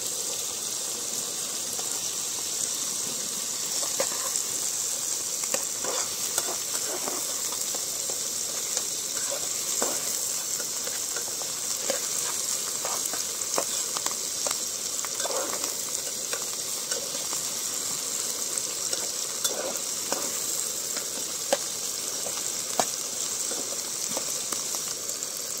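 Potatoes frying in a pan during seaside cooking: a steady, soft sizzle with scattered small pops and crackles continues evenly throughout at low volume, without talking.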